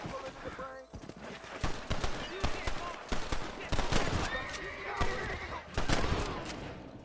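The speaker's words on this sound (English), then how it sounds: "What's that shooting?" Scattered gunfire in a Red Dead Redemption shootout, sharp cracks and bursts of shots mixed with horse hooves and background commotion, moderately loud and continuing throughout.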